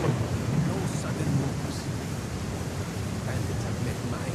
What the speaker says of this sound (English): There's a storm!